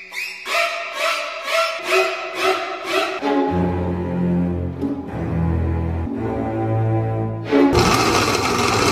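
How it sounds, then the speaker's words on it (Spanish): Blender running as it purees chili peppers, a loud steady motor whir with shifting pitch and rising surges, preceded by a few rhythmic bursts as the blades catch. "Entonces los voy a licuar."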